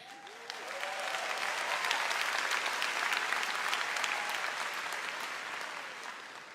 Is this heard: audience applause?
yes